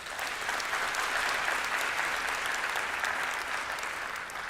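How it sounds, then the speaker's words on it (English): Sustained applause from an audience at a university graduation ceremony, a steady dense wash of many hands clapping with no break, moderately loud and even throughout. "May I please request us to give them a round of applause."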